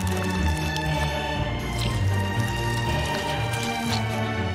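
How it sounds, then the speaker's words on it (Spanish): Paper is soaked in glue for Halloween special-effects makeup, giving close, wet squishing and dripping sounds that continue steadily with no speech over them. "A mojar este papel en pegamento."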